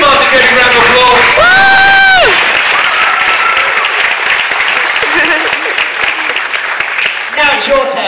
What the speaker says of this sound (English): Give Martin a round of applause.